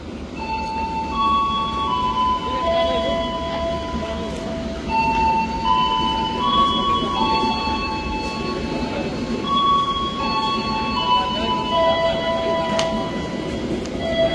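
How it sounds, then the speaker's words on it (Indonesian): The Manahan passenger train from Solo Balapan to Gambir rolls through a station in Indonesia with a steady rumble, while high squealing wheel tones slide and overlap above it, close and loud for the whole stretch. "ini ada kereta api yang melintas, ini adalah kereta api Manahan dari Solo Balapan tujuan akhir Gambir"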